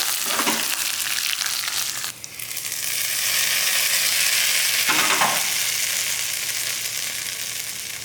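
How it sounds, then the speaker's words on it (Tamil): Mustard seeds, urad dal, cumin and curry leaves sizzle in hot oil as a tempering for coconut chutney, a close, continuous crackling fry with a brief dip partway through. "இப்போ நல்லா அந்த சட்னிக்கு நல்ல ஒரு தாளிப்பு கொடுத்தாச்சு"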